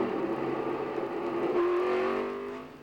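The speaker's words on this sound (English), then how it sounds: "We'll be on the pole with Mark Martin in the Valvoline Cummins diesel Ford of Jack Roush" A 1995 Valvoline Cummins Ford NASCAR race car driven by Mark Martin roars at New Hampshire, its engine note rising in pitch as it revs, loud and continuous, then easing slightly at the end.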